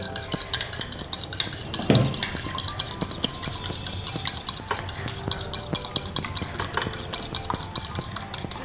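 Eggs beaten with a fork in a bowl, a rapid continuous clatter of metal tines against the bowl with fast regular strokes, close and steady, with one louder knock near the start.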